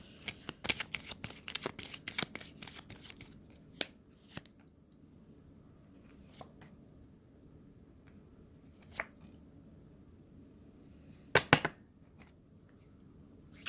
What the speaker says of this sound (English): let's shuffle up my clarification deck here and clarify these tarot messages